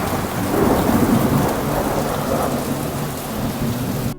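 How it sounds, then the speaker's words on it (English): A heavy thunderstorm with a downpour hammers down in a steady dense roar while deep thunder rumbles low underneath, loud and continuous with no voices. "thunderstorms can be brutal."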